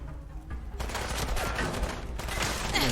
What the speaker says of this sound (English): I'm standing here getting shot at